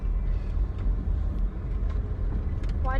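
Road noise from inside a moving car gives a steady low rumble and tire drone, with faint passing sounds and a short tonal chirp near the end.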